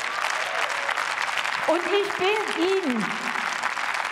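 Steady applause fills a parliamentary chamber during a debate on Women's Day, with a speaker's voice rising over it partway through.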